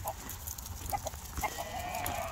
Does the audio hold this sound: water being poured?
no